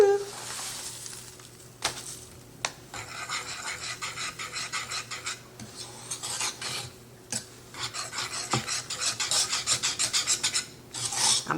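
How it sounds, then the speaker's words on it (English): A whisk scraping and rasping against the bottom of a pan, repeated rhythmic strokes close up, fairly quiet, with pauses between bursts and no talking. "I'm sorry for the whisk making a noise against the bottom of this pan."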